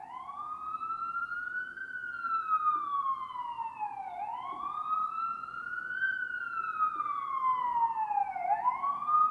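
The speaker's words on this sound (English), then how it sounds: "I don't know if you can hear the sirens." A police siren wails steadily with rising and falling sweeps, heard at moderate distance over faint background noise.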